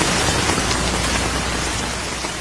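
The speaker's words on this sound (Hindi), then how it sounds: "वर्षा करवा दी" Steady, loud rain pours down as a continuous dense hiss that fades very slightly over a few seconds, with no voices.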